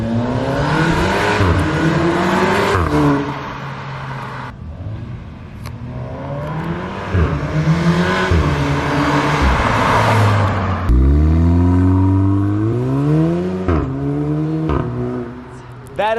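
A Mk7 Volkswagen Golf R fitted with a Milltek non-resonated exhaust revs and accelerates in loud, close surges, engine pitch rising and falling through repeated pulls with brief lifts between them, and a voice speaking over parts of it.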